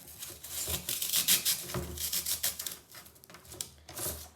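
Pipe cleaner wire rubbing and cutting through floral foam fixed on a trash can, a scratchy, gritty rasping in uneven strokes with brief pauses, close and fairly quiet, with no talking.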